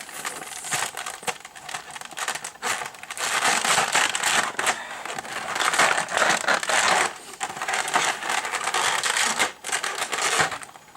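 Sticky tape is peeled and crinkled off the plastic clamshell packaging of an S.H.Figuarts Vegeta action figure. Close, continuous rasping and crackling tears and rustles run throughout with no speech.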